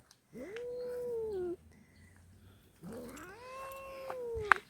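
A ginger cat out on an outdoor walk lets out two long, drawn-out yowls separated by a short pause, close and fairly loud, with a sharp click at the end.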